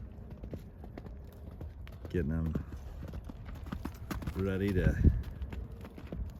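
A horse's hooves clip-clop on the ground as it is trained, a steady rhythmic patter of close hoofbeats beneath a voice talking.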